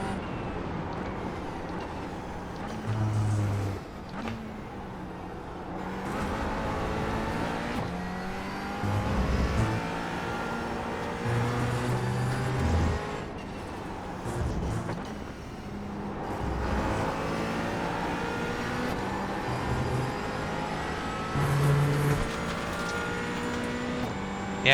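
A GT4 race car on practice laps at Virginia International in iRacing roars and revs steadily, with rising and falling engine pitch through upshifts and downshifts, several braking lulls and bursts of acceleration, loud and continuous throughout.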